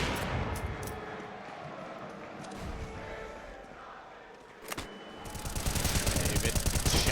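Gunfire in Counter-Strike: Global Offensive during a BIG vs. 9z esports match: rapid bursts of shots ring out under steady crowd and commentator noise, with a sharp single crack near the middle and heavier firing toward the end.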